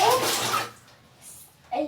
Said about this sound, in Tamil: சரி இப்போ ஊத்த போறோம்.